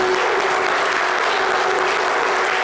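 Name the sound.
studio audience applauding Yodé et Siro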